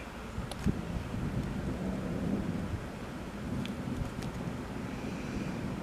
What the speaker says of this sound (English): Just listen to that thunder.